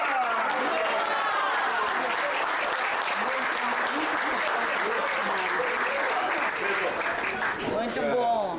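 Sustained applause from an audience at a gathering of master teachers, steady dense clapping filling the whole stretch with crowd murmur and voices mixed in, swelling slightly near the end.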